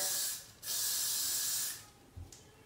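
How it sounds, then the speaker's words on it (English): Hairspray sprays onto a comb while a lace wig is styled: two long, close, airy hissing bursts with a brief break between them, then a softer tail. "I like to just spray a little bit of hairspray on a comb"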